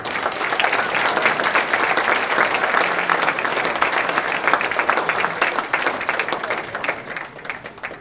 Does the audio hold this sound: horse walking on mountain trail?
no